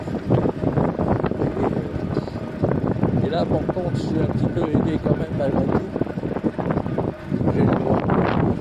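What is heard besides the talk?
wind blowing while riding a Cyrusher Grace e-bike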